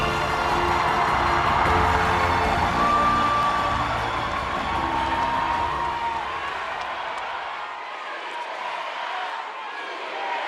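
Crowd applauding and cheering as a presidential candidate takes the stage at a party convention, dense clapping and whoops that thin out toward the end.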